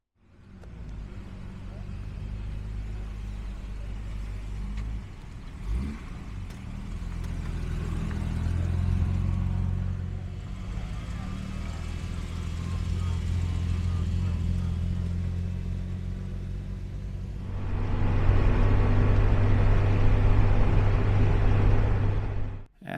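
A two-cylinder Trabant rated at 30 horsepower rumbles along on a club drive, its low engine drone rising and falling through gear changes and surging louder near the end, close up with people talking over it.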